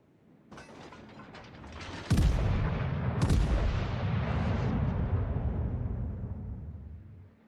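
Heavy naval guns firing in World of Warships as the battleship Dunkerque engages a Montana-class ship: an opening crack, two loud booming salvos about a second apart, then a long rumbling mechanical roar that slowly fades.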